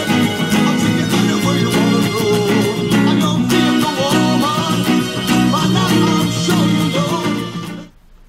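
Rhythm guitar strumming the chorus of a song, a dense, loud and steady chord pattern played alone for about eight seconds before cutting off abruptly.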